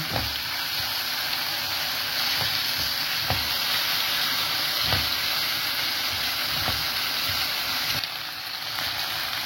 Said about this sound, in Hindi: अब ये एलोवेरा जेल में डाल रही हूँ। और तब तक आपने फ्राई करना जब तक इसकी ये लेस जो है ना खुशक ना हो जाए।